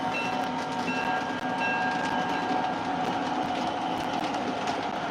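An O scale model GP10 locomotive with a stainless steel reverser runs steadily, giving a continuous close mechanical rumble and whir with faint tonal hum and no talking.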